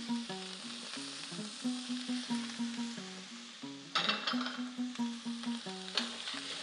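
Diced zucchini sizzles in a pan for vegetarian chop suey, a close, steady frying hiss punctuated by rhythmic stirring scrapes and clinks, with no talking.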